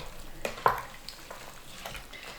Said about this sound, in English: Then you just want to give it a stir.